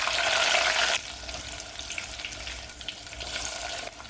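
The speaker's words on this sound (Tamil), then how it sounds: "பச்சை மிளகாய் பூண்டு சேர்த்து வதக்கலாம்" Green chili and garlic sautéing in sesame oil with fenugreek and fennel for a Chettinad kara kuzhambu. A loud, bright hiss bursts for about a second, then settles into a steady, softer crackling sizzle, with no voices.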